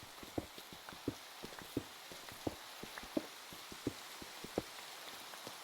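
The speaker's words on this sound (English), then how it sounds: "By the way, the rain is very nice." Steady pattering rain in a block-building game, soft drops tapping a surface at an irregular rhythm under a faint background hiss, with no voices.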